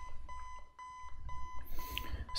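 Repeated electronic alarm clock ringing in the video game Five Nights at Freddy's 4, a steady pulsing beep pattern that keeps going on its own, with a rising noisy burst of game sound near the end.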